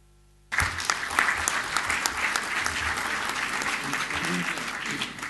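Audience applause at an evening talk on love and marriage held at an Orthodox church hall in Attica, a sudden burst of moderate clapping that stays steady and fairly even throughout.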